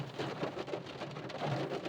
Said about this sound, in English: It started to rain, but we see how it goes.